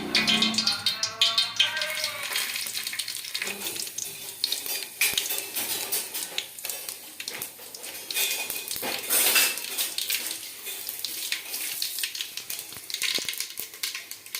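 Chana dal, urad dal, mustard seeds and cumin tempering in hot oil in a pot on a stove for sambar, a close crackling sizzle mixed with metal utensil clatter and stirring, with a voice talking throughout.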